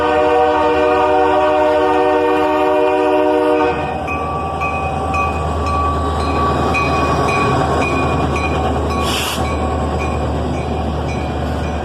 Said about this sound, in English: SD42 leads this slow Norfolk Southern train southbound.